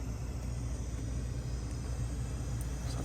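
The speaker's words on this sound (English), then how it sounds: "So that's the sound of the blower on the boiler." A DCC sound decoder in a model Southern Pacific cab forward steam locomotive plays a steady low boiler blower rumble and hiss, constant and fairly soft throughout with no other sounds.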